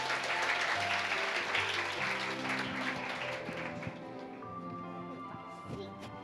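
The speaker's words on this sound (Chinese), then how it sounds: "掌声欢迎" An audience at a children's drama summer camp event claps in a sustained round of applause that slowly tapers, with voices murmuring and speaking underneath.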